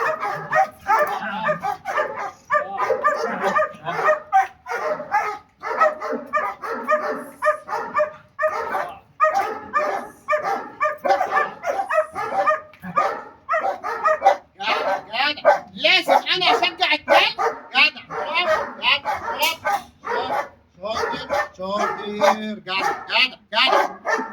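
A dog barks and yips repeatedly in quick bursts, close and loud, while people talk over it throughout.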